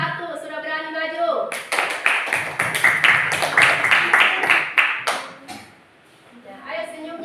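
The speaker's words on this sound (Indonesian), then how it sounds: "beri aplaus kelompok 1 sudah berani maju" Scattered hand clapping from a small classroom group breaks out for group 1, a dozen or so sharp claps over a few seconds, with a teacher speaking before and after.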